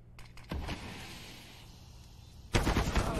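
Gunfire in a Counter-Strike match, two sharp loud bursts about two seconds apart with a lingering tail between them, heard on its own.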